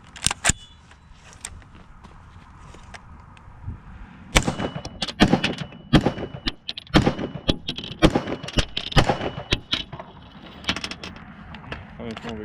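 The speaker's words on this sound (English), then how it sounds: "let's go ahead and dump the old AR and empty out these mags" An AR rifle fires outdoors as magazines are emptied: sparse single shots at first, then dense rapid volleys of sharp cracks with echoing thuds, loud and close, with brief talk between shots.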